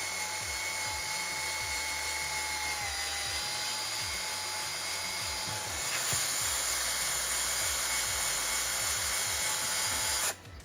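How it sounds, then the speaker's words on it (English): A drill runs steadily with a high whine, its pitch dipping slightly as it bites into a broken cam bearing on a 1999 Subaru 2.5 DOHC engine, then cuts off abruptly near the end; repeated grinding scrapes underneath. "The key with drilling is nice and slow."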